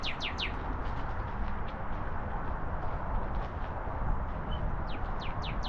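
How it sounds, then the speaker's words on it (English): A red bird calling outdoors: clusters of quick, sharp descending chirps at the start and again near the end, fairly clear above a constant loud rushing background noise. "Bird's so red it looks orange."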